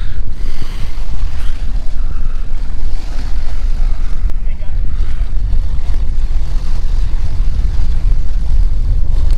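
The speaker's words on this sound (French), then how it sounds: "Un vent toujours des plus désagréables." Steady, loud wind roars across the open sea aboard a sailboat bound for Porto Santo, with a constant rushing hiss and low rumble, waves splashing faintly underneath throughout.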